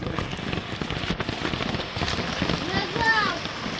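Rain falling in a Bangladeshi village, a soft continuous patter of drops on surfaces, fairly quiet and close, with a brief sharp knock partway through and a voice at the end.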